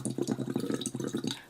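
Someone blows through a voice therapy tube into water, making small, even bubbles that gurgle in a quick, regular rhythm close by and fairly soft.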